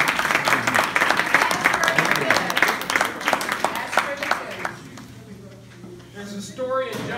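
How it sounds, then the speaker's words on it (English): Audience at a church hiker feed giving a round of applause, steady clapping for several seconds that fades out, followed by a quieter stretch with speech and faint tonal sound. "How about a round of applause, everybody?"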